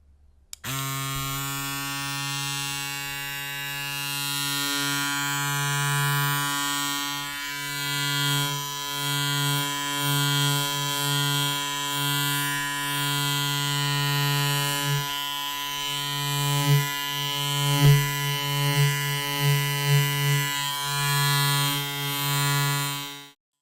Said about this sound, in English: Let's try the shaver.